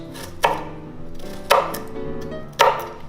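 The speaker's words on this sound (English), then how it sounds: "Okay, and we'll cut them just like we cut an onion. We're going to cut straight down like this." A knife chops shallots on a cutting board in a home kitchen, making three distinct, evenly spaced thuds about a second apart, close and clear over a faint steady background hum.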